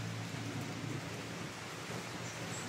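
Rain falls steadily as a constant hiss with a low rumble beneath, fairly faint and unbroken, with no voices.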